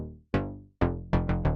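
Synthesizer notes shaped by an entropy EQ module that accentuates the attack, sharp plucky hits that decay quickly, a lone note followed by a quick run of four, close and clear with no voices.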